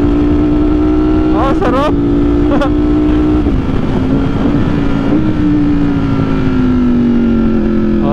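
A Ducati Streetfighter V4S naked motorcycle drones loudly and up close, its engine pitch rising and falling through brief revs, while a person briefly speaks over it.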